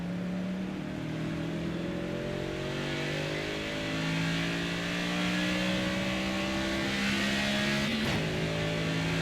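A NASCAR Cup race car engine in NASCAR 25 revs loudly and climbs steadily in pitch through the gears, a close continuous roar with a brief shift dip near the end.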